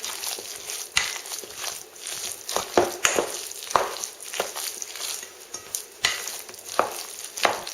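Raw meatloaf mixture with egg being mixed by hand, giving soft, wet squelching and squishing in irregular bursts, close and fairly quiet, with no voices.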